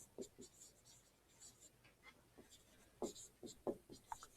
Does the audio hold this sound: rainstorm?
no